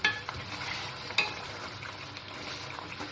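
Spices and yogurt frying in olive oil in a karahi for mutton karahi, a steady close sizzle with scraping stirs, including two sharper scrapes near the start and partway through, and no talk.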